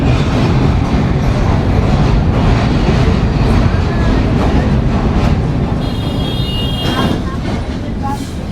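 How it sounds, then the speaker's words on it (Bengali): A passenger train crosses a bridge over the Kapotaksha river between Benapole and Khulna, its loud steady rumble and rattle continuing throughout, with a faint high squeal late on and a voice speaking over it. "আমাদের ট্রেন এই মুহূর্তে পার করছে কবি মাইকেল মধুসূদন দত্তের লেখা কপোতাক্ষ নদ"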